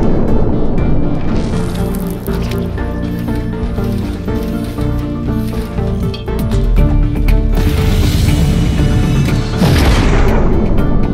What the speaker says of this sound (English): When activated, Crater causes the Assault Battleframe to rocket into the ground, damaging enemies near the impact.